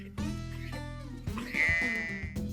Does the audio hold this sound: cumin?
no